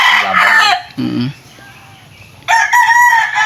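A fighting cock crows loudly on a small backyard farm in Rizal, Palawan, two bursts of crowing separated by a low clucking call, close to the microphone with no talk.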